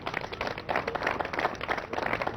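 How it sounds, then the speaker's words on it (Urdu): Dense, steady applause from a studio audience at a Ramadan sehri television broadcast, many hands clapping together at moderate volume with no gaps. "اس پہ تالیاں نہیں ہونی چاہیے؟"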